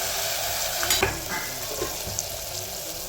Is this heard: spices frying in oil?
yes